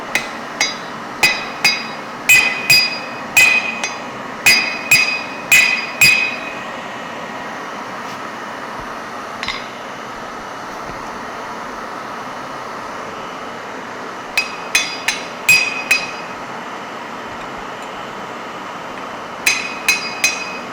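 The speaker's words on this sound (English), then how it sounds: "Then apply hammer on the head." Sharp metallic hammer blows on heated metal in a heading tool ring out in quick bursts of several strikes, with pauses between groups, over a steady low workshop hum.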